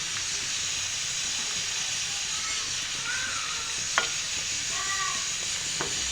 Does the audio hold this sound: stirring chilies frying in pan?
yes